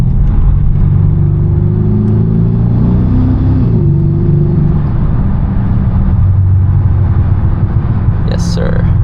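A Mercedes S-Class engine drones loud and close from inside the car while driving, its low hum rising and shifting in pitch as it downshifts, with a voice talking over the rumble.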